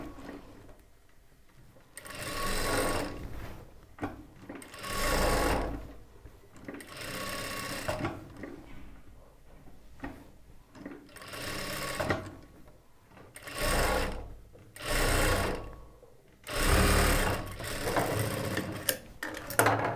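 Sewing machine stitching the neck of a churidar top, running in repeated close bursts of rapid whirring separated by short pauses, loud and alone.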